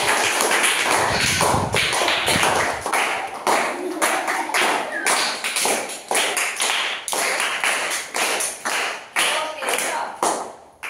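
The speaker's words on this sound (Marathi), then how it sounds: "सगळ्यांनी टाळ्या वाजवून स्वागत करा." A school audience claps steadily for several seconds to welcome a magician, the applause fairly loud and continuous, thinning into scattered claps toward the end.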